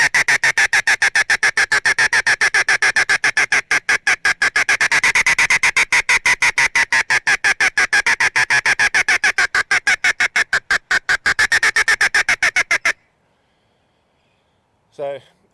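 A Teal Talker teal call is blown to imitate teal ducks: a long, loud, rapid run of nasal quacking pulses carries on for about thirteen seconds without pause, then cuts to silence.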